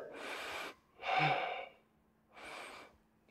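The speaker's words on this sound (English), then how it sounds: "Three breaths here." Three slow, deep breaths held in a yoga lunge, each a soft airy inhale or exhale lasting about half a second, close and quiet with short pauses between them.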